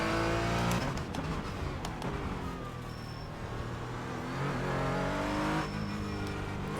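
A Porsche Cayman GT4 race car in the iRacing simulator launches from a standing start in an IMSA Michelin Pilot Challenge race, its engine revving loud and steady, rising through gear changes over several seconds.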